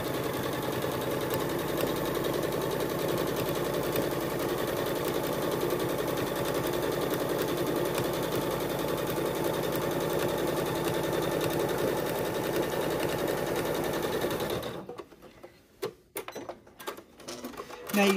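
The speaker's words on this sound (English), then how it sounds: "I'm just going to hold it straight and stitch along the edge using my 1/4 inch seam." Sewing machine with a denim needle stitching a quarter-inch seam along the edge of a denim clutch, a loud steady close whirring drone that runs for about fifteen seconds, then stops, leaving a few handling knocks.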